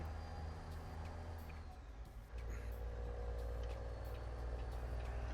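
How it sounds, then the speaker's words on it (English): Heavy truck engines rumble and drone steadily in a US trucking simulator convoy in town traffic, a dense low roar with occasional air-brake hiss, continuous and fairly loud throughout. "All I can hear is Mav's trucks just a screaming behind me."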